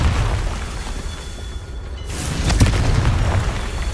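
A Confringo spell in Hogwarts Legacy explodes with a deep booming burst near the midpoint, following a low rumbling build-up, then crackling debris and a lingering roar as the blast fades.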